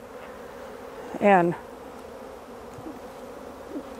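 Honey bees around a hive during a spring inspection as a colony prepares to swarm: a short, loud buzzing burst of a single bee passing close by over a quiet outdoor background, with a faint second buzz shortly after.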